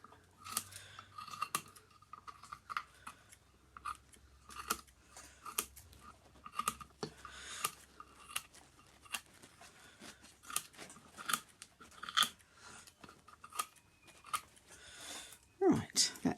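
Scissors snip repeatedly around the edge of a resin pour piece, cutting the base free with a steady run of close, crisp clicks and scraping cuts.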